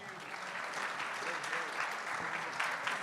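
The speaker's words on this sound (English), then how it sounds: "Please give him a big round of applause." A crowd in a hall applauds at the opening ceremony of ETHGlobal Istanbul 2023, a continuous wash of many hands clapping, steady and moderately loud, with faint cheers or voices mixed in.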